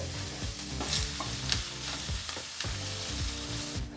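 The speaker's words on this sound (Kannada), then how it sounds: "ಈ ರೀತಿ ಬಾಣಲಿಗೆ ಈರುಳ್ಳಿನ ಸೇರಿಸಿದ ನಂತರ ನಾವೊಂದು ನಾಲ್ಕು ನಿಮಿಷಗಳ ಕಾಲ ಈರುಳ್ಳಿನ ಚೆನ್ನಾಗಿ ಫ್ರೈ ಮಾಡ್ಕೋಬೇಕಾಗತ್ತೆ" Onions frying in a pan for a Kannada-style kallu gojju, a steady close sizzle with scraping stirs and a few louder clatters throughout, no talk.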